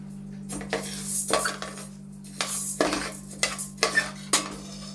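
Dry roasting in a pan with no oil or ghee, for an Onam pradhaman: a spoon scrapes and clinks against the metal in short irregular bursts over a low steady hum, close by, with nobody speaking.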